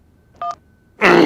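A short electronic telephone tone beeps once, briefly and clearly, then gives way to a sudden loud burst of noise.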